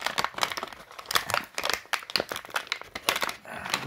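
Packaging of a Philips Krypton lamp being torn open and unwrapped, close crinkling and crumpling in quick, irregular bursts without any talk.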